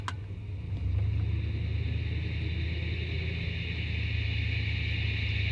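Steady low drone and whine from the pinion housing of a 1971 Cadillac Coupe DeVille while driving slowly, a constant rumbling hum with a faint higher whine holding level throughout.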